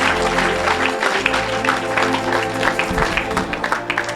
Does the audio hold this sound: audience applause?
yes